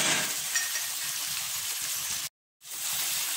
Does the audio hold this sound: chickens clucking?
no